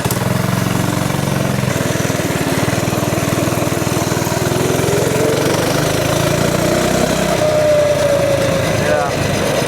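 A Ghost 212 engine swapped into a mini bike runs loud and steady at close range, a continuous buzzing drone that shifts pitch slightly toward the end.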